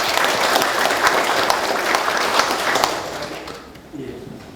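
An audience at a regional government meeting in Cheongsong, Korea, claps steadily, the applause tapering off near the end as a voice begins talking.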